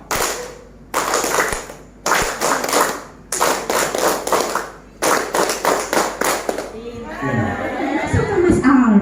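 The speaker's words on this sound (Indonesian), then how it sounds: "Tepuk Pancasila." Children at a Scout extracurricular session clap the Tepuk Pancasila pattern in loud rhythmic bursts, pausing between groups of claps, with a group voice chanting along and a crowd murmur rising at the end.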